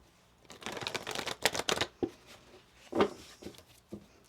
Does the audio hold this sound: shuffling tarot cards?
yes